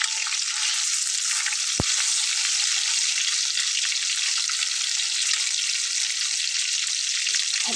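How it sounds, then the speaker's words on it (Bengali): Two pieces of fish fry in a small wok, giving a steady, fairly quiet sizzle and crackle throughout with a single sharp tap partway in. "আমি এরকম 2 পিস করে দিয়ে ভেজে নেব।"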